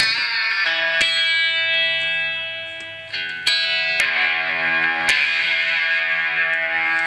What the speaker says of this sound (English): 60s Echo lead.